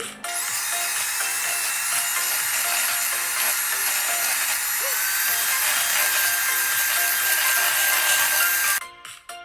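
Electric mixer whipping heavy cream at low speed, a steady loud whirring and scraping drone that runs unbroken for about nine seconds and then cuts off, no talking.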